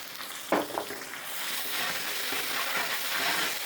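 Ginger garlic paste is stirred into Chettinad country chicken curry frying in a pan, two scraping stirs early, then a steady loud sizzle that swells and holds.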